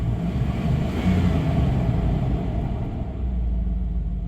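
The engine of a 1999 Dodge Durango SLT, left abandoned for 14 years, holds a steady high idle, giving a continuous low rumble that stays loud and close throughout.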